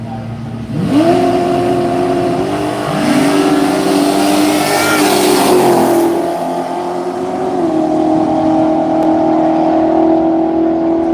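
Drag racing cars launch and accelerate down the strip during a night qualifying session, loud engines climbing in pitch through several gear changes as two cars pull away, then a lingering engine drone.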